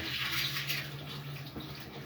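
Cold tap water runs over a restored folding knife being rinsed, a steady close splashing flow with small shifts as the blade moves through the stream, and no talking.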